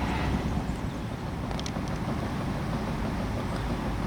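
Wind blowing over a lake at a carp fishing swim, a steady rumbling rush buffeting the microphone with little change throughout.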